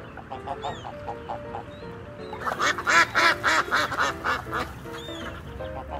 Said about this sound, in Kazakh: Дұрыс, үйрек.